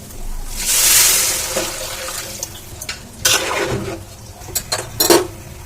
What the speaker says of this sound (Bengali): এখন আমরা জলটা দেব